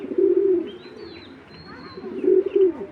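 Domestic pigeons cooing in a loft, with two low, rolling coo phrases near the start and end and quieter bird sounds between, close and fairly loud.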